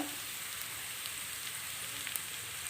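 Sliced onions frying to a golden crisp with four cloves, five cardamom pods and a bay leaf for a prawn malai curry, giving a faint, steady sizzle with soft crackles throughout and no talk.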